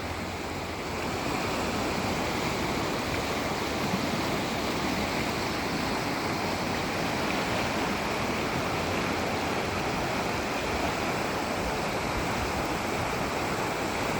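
Spring runoff rushing down Clear Creek near Buffalo, Wyoming: a steady, full roar of high water, constant and unbroken, heard alone from close by.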